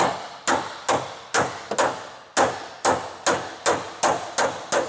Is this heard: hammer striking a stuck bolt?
yes